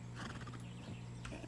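Hooves of a horse in the video game Far Cry 6 clip-clop in a quick rhythm, with a short horse whinny over a steady low hum.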